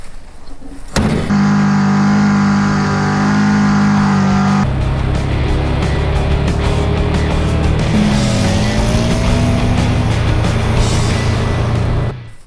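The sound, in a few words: classic car with 550 CFM carburetor driving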